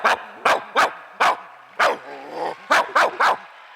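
A mimicry artist imitates a dog barking at a youth festival, giving about eight sharp, loud, separate barks in a broken rhythm, delivered alone with no other voices.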